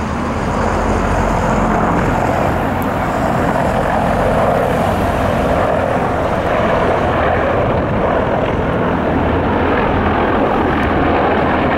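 A loud, continuous drone of helicopters flying overhead during Victory Day in Russia, with rotor-like beating filling the air, holding steady throughout.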